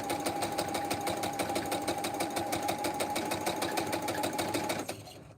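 A sewing machine stitches Double Arrow quilt blocks, its close, steady, rapid mechanical whir running evenly before stopping just before the end.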